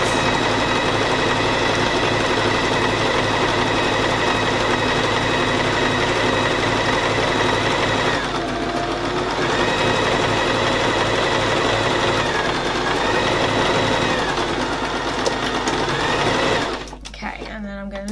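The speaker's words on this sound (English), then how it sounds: "we're just going to straight stitch all the way down to the bottom of" A sewing machine runs a long straight stitch down the edge of an envelope cushion cover, a loud steady whirring drone with a brief slowdown midway, stopping near the end, while a voice talks over it.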